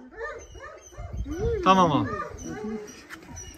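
A Rottweiler puppy gives a short, high whimper midway, close by, set among men chatting casually in a room.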